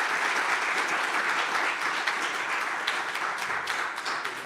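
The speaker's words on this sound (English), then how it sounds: "let's give a big round of applause to our fantastic panel" Audience applause for a conference panel, a dense, sustained roar of many hands clapping together at steady loudness, filling the room throughout before easing slightly at the end.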